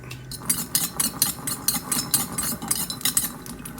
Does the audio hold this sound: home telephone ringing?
no